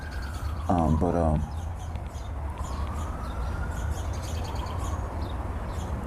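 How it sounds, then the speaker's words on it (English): Distant sirens wail and sweep up and down in the background, while a nearby voice speaks briefly over a low steady rumble. "As you can hear the sirens in the background"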